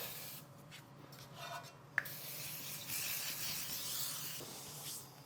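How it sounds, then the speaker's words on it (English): A faint spray hisses from an aerosol can of cooking spray onto a baking pan for a few seconds, with a sharp tap just before it, quiet and close. "You are going to see me spray this."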